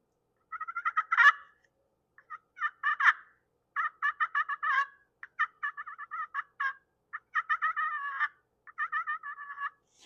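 A slate turkey call worked lightly with a striker produces soft, clucking hen feeding sounds in short irregular bursts of yelps and purrs, close and clear against silence.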